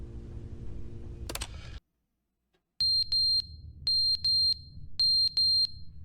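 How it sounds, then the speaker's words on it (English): A smoke detector with a dead battery gives short, sharp, high electronic beeps in quick clusters of two or three, loud and close, after a brief burst of noise and a moment of silence. "battery's dead in the smoke detector"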